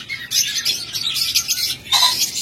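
Caged budgerigars and lovebirds chirp close by in quick, bright bursts, several overlapping tweets coming in uneven clusters with short pauses between them.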